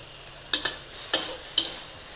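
Mushroom and holy basil stir-fry tossed over high heat in a wok: a low steady sizzle broken by four sharp scraping clatters of the spatula, spaced unevenly, fairly close, with no talking.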